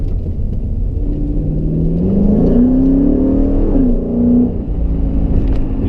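A 5.7L HEMI V8 fitted with JBA shorty headers revs up in a loud, deep rumble that climbs in pitch, holds for a couple of seconds and then settles back toward idle, with no one talking.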